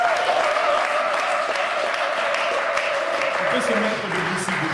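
A church congregation claps steadily in praise, the applause dense and continuous at moderate distance and fading slightly toward the end.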